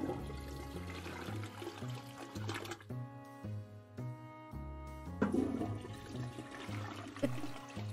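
Toilet flushes in the game Toilet Flushing Simulator, a loud rushing water flush over looping background music, then another surge of water toward the end.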